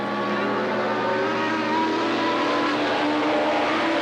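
Suzuki and Kawasaki racing motorcycles scream around a 1991 dirt speedway, a loud continuous engine roar from several machines with a faint announcer's voice in the mix.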